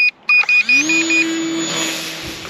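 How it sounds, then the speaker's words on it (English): A string of quick electronic beeps from a VolantexRC Trainstar RC plane, then its motor spins up into a steady whine that holds, close and fairly loud. "you press the acrobatics button, starts beeping"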